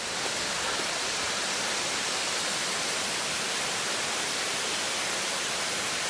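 Steady broadband roar of a waterfall heard on a hike, a dense, continuous rush of falling water filling the space evenly from start to end with no voices over it.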